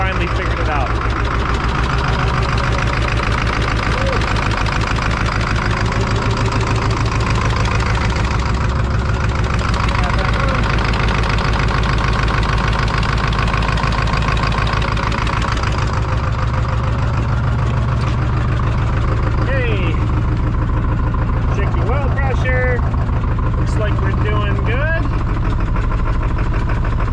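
A Ford 7.3 diesel engine idles steadily after a cold start on a downpipe only with no exhaust, a loud continuous low rumble with a knocking clatter throughout, and a voice talks over it in places.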